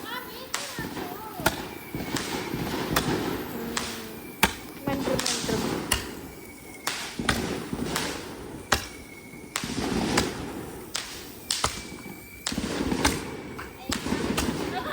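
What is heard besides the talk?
firecrackers exploding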